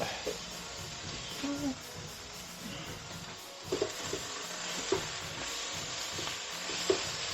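Cooking in a hot wok for keto fried rice, a soft, steady sizzle with occasional stirring clinks and scrapes. A voice talks quietly over it.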